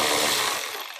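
Tool unscrewing bolts from the shield of a Can-Am Ryker Rally, a brief close whirring rattle that fades out within about a second.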